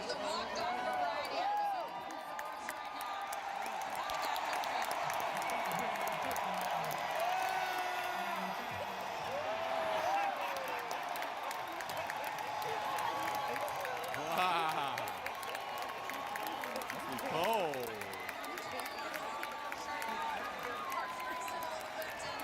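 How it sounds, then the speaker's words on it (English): A Los Angeles baseball stadium crowd erupts after a walk-off homer, a sustained, somewhat distant roar of cheering voices, clapping and scattered whoops that rises and swells over many seconds. "All the crowd was going crazy."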